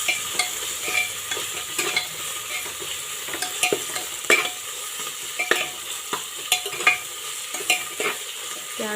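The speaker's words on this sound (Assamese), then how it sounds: "এতিয়া গোটেইখিনি ভাজি ল'ম আকৌ এবাৰ" Ginger garlic paste with bay leaves fries in a pan, a soft steady sizzle broken by repeated scraping and stirring clicks of a spoon against the pan.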